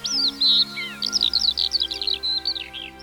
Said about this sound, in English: The most common is the Eurasian skylark,